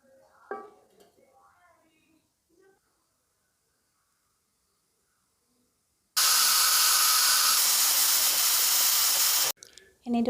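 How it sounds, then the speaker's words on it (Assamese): A pressure cooker cooking taro lets out a single loud, sustained whistle-hiss of steam that bursts in abruptly and runs for about three seconds before cutting off. Quiet kitchen clinks and soft sounds come before it. "এনেদৰে কুকাৰত কচুখিনি দি 6-7টা হুচেল মাৰি ল'ম।"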